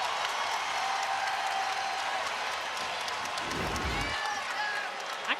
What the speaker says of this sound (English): And listen to this crowd at Maples.